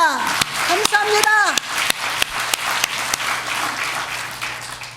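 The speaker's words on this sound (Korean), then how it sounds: "영광의 박수를 다시 올려드립니다" A church congregation applauds during a Sunday service, with steady crowd clapping that stays loud throughout while a voice speaks over the start.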